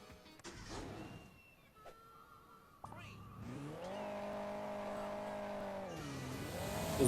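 Rally car from Hill Climb Racing 2 starting off, its game engine tone climbing and holding steady, then dipping and rising again, with a short click beforehand and someone talking over the opening.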